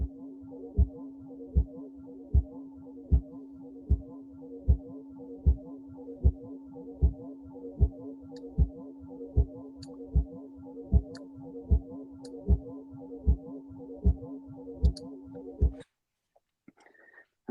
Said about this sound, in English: we're going to translate that into a sound wave by messing with the time and pitch scaling.